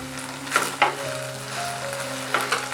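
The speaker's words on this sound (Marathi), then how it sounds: "व्यवस्थित परतवून घेते" Baby corn chilli with cornflour slurry and seasoning sizzling in a hot pan, a steady frying hiss broken by a few sharp stirring scrapes, close and with no talking.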